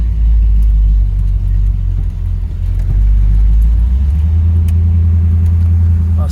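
A 1970 Camaro Z28 tribute's engine idles steadily nearby, a deep constant rumble with a slight dip and swell midway, loud and close with no talking.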